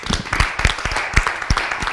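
A burst of live clapping and applause from a studio audience welcoming a guest onto a French-language talk show, quick uneven claps, close and fairly loud.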